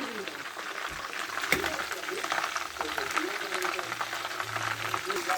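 Mutton leg pieces fry in oil with a steady bubbling sizzle close by, broken by a few soft knocks and scrapes, while a voice talks faintly over the frying.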